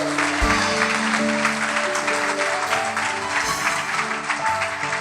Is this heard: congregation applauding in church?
yes